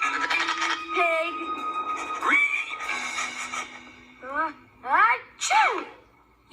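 A cartoon police pup sneezes in a series of loud, voiced achoos near the end, following animated character talk and some catlike vocal sounds.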